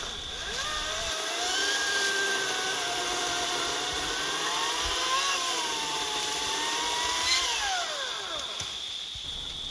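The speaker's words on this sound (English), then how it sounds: "We recently got the Echo 58 volt 16-inch brushless chainsaw" An Echo 58-volt 16-inch brushless battery chainsaw whines steadily, its motor pitch rising and falling as it bites into wood, with a high constant tone throughout and no talking.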